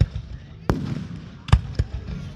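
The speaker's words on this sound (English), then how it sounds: "Oh, fireworks." At an outdoor fireworks show, three sharp booms burst at uneven intervals over a low background rumble, with faint talk in between.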